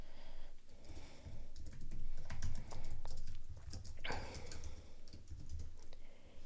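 Code is typed on a computer keyboard in a steady, quiet patter of close key clicks with a few heavier strokes, running throughout against soft room hiss.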